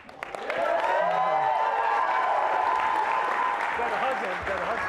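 Applause fills a wedding reception for the couple, dense sustained clapping with some cheering that rises quickly and holds loud throughout, with voices mixed into the crowd noise.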